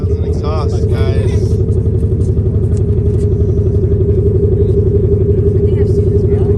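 A steady, loud exhaust rumble at the South Coast Plaza car show in 2021, from a Tesla fitted with an exhaust, drones evenly throughout with voices talking over the start.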